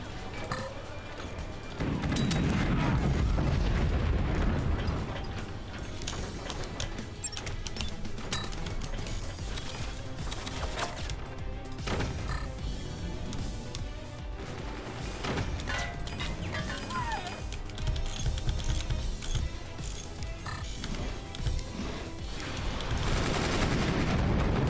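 Rapid volleys of swarm missiles launching in the physics-based strategy game Forts, a dense, sustained barrage of firing bursts over a low rumble, loud throughout and swelling again toward the end.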